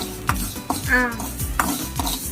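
Chopped mango for pickle frying in a thin-bottomed pan over a low flame, with soft sizzling under repeated scraping strokes of a spoon, three or four stirs at an even pace.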